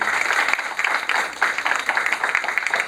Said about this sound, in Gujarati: એક સરસ મજાની તાળી આપ સૌને માટે બી અને ડૉક્ટર સાહેબ માટે